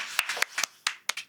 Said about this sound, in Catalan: Un aplaudiment per l'Aniol